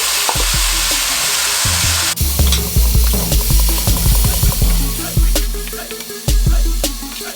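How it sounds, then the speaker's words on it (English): Tomatoes frying in a pan for a breakfast dish, a loud close sizzle with repeated scraping and clattering stirs, the hiss dropping after the first couple of seconds. "I'm going to add my tomatoes."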